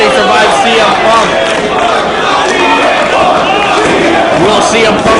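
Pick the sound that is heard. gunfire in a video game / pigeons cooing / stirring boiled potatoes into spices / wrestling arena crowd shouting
wrestling arena crowd shouting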